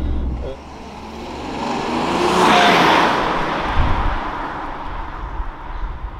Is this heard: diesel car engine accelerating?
yes